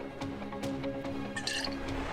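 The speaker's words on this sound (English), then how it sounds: "Pour it on your bar because you forgot how to stop pouring." Midori liqueur poured for a layered shot with cherry vodka at a bar, a short quiet trickle and drip of liquid splashing into a glass, close and brief, with no voices.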